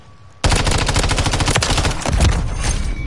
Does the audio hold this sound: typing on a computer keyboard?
no